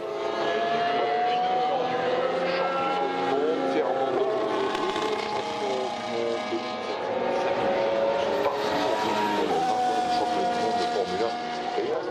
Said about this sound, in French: c'était le moment pour les Formule 1 finalement d'aller en piste